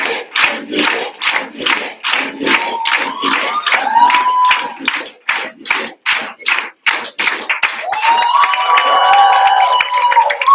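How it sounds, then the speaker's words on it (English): A crowd at an AIESEC Türkiye election event breaks into loud, sustained applause with cheering and whoops, rhythmic clapping bursts rising into a dense roar of voices near the end. "we want to send you back with one more huge applause"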